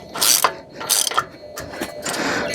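Ratcheting socket wrench snugging bolts on the spindle of a 1988 Ford Bronco, heard as several short bursts of rapid mechanical clicking, close and clear, with no talking.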